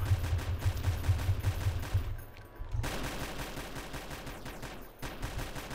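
Bursts of M4 rifle fire in a roleplay video game, rapid loud automatic volleys in separate strings with short gaps between them.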